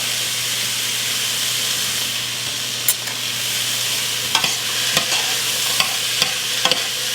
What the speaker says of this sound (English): I'm constantly stirring the entire time because I don't want the bottom of it to burn any at all.